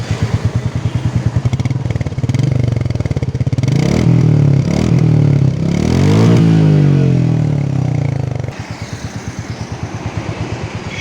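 Royal Enfield Meteor 350 single-cylinder motorcycle engine thumps at idle with a steady pulsing beat, then revs up and down in rising and falling surges before settling back to a loping idle, loud and close.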